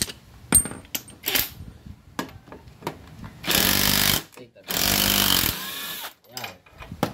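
Impact wrench removing a kicker bolt on a Kawasaki NS 150 motorcycle, two loud sustained rattling bursts amid clicks and tool clatter, close by.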